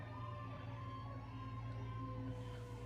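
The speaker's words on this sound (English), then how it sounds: "They got Santa Claus on top of a fire truck, bruh. Just with the sirens blasting." A fire truck carrying Santa Claus passes on a residential block, its siren wailing steadily over a low engine rumble for about three seconds.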